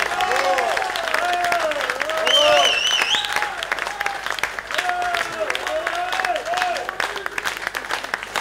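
A festival crowd at the Essonne Country Festival in St Germain-lès-Arpajon applauds a French band, steady clapping rising to a peak midway, while someone speaks over it through a PA and whistle-like tones cut through.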